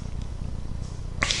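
A cat in the Clean Slate video game gives a short, sudden cry near the end, standing out over a steady low background rumble of game ambience.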